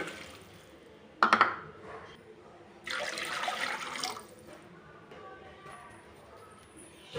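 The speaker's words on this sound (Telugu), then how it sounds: "టూ కప్స్ వాటర్ పోసుకోండి" Water splashes briefly into a pan, then a steady pour of about two cups runs for about a second and a half, fairly faint, with quiet gaps around it.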